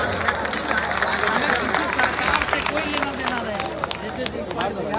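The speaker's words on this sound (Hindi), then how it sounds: "हम चाहेंगे कि पूरे ऑडियंस में जोरदार तालियों से इनका स्वागत करें।" Audience at a public gathering at G.D. College, Begusarai, Bihar, applauding to welcome IPS officer Vikas Rai: dense, continuous clapping from a large crowd, loud and sustained, with crowd murmur mixed in.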